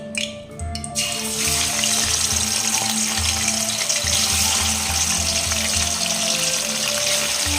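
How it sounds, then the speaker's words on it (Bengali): Katla fish pieces fry in hot mustard oil, a loud, continuous crackling sizzle that begins after a quiet opening second and stays close and steady, with no speech. "সর্ষের তেল দিয়ে মাছটাকে একটু হালকা করে ভেজে নেব"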